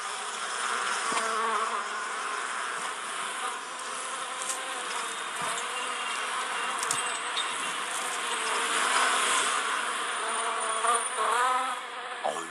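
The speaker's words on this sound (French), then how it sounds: "Les abeilles se sentent bien en ville." Honey bees swarm busily around a new hive in a city setting, a dense, continuous buzzing close by with individual bees droning past now and then.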